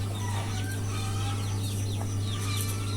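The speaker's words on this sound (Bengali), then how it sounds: "বাচ্চাগুলো একদম অরিজিনাল দেশি মুরগির বাচ্চা এগুলো" Month-old native country chicken chicks chirping together in a cage, faint overlapping high peeps over a steady low hum.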